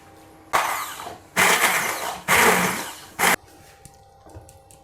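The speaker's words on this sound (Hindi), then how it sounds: "अब ये हो गई हैं सॉफ्ट और इनको अब हम जल्दी से बनाते हैं यहाँ पर हैंड ब्लेंडर से इसका पेस्ट" A hand blender whirs in four bursts, three long and one short, as it purees soaked dried chillies into a paste for chilli garlic sauce. The pulses are loud and close, with brief pauses between them.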